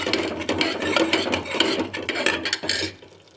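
Red chili powder, coriander-cumin powder and garam masala being stirred into hot oil in a pan for ragda samosa chaat, giving a steady close scraping, rasping sizzle in repeated strokes with no talking.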